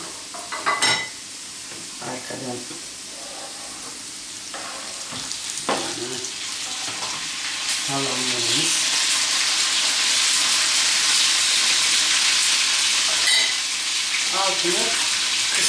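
Steady sizzle of potatoes frying in a pan that swells and stays loud, with brief clinks and stirring sounds at the start, no talking.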